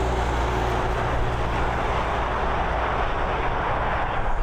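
Steady broadband roar of an ATR regional turboprop airliner approaching Dublin Airport, loud and continuous with a low rumbling body and no voices.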